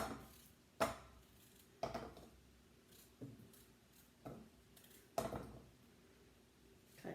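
A knife chops through meat on a cutting board in a home kitchen, five or six distinct sharp thuds spaced about a second apart, close and fairly quiet against a faint background hum.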